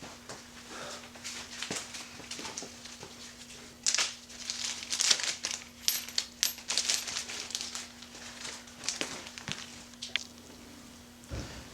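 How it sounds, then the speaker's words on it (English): Close crinkling and rustling of a plastic Ziploc bag being handled in a workshop, irregular bursts of crackle with light knocks of metal bolts dropping in, fairly quiet. "Put this all in one Ziploc bag."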